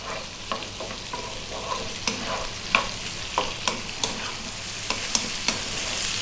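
Carrots and cabbage stir-fried over medium heat with fresh ginger, a steady sizzle broken by repeated sharp scrapes and clicks of a utensil against the pan at irregular intervals, close and moderately loud, no voices.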